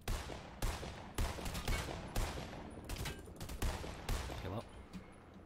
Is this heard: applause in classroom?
no